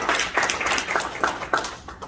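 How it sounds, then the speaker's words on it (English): A panel audience at a Miami tech event breaks into applause, a dense patter of overlapping hand claps with a few sharper bursts. It stays steady and moderately loud for about two seconds, then thins out. "give yourself a round of applause"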